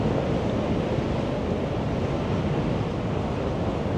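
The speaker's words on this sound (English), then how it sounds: "Oh, we're back in the wind again." Strong wind buffets the microphone on the open sun deck of the Celebrity Apex cruise ship, a loud, continuous roar with the wash of sea below and no voices.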